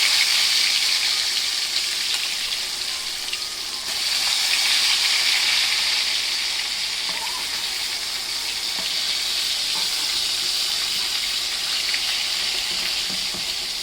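Fish pieces, salted beforehand, frying in hot oil in a wok: a steady, dense sizzle holds close and loud throughout, with a slight swell partway and faint crackles over it, and no talking.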